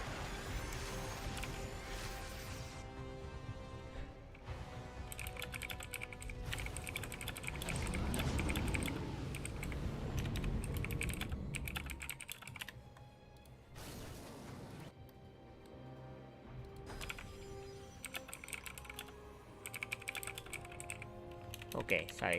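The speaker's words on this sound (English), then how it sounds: "sorry guys, I'm typing too" Rapid computer keyboard typing during a StarCraft league broadcast, running steadily as soft clicks beneath continuous game sound effects and music.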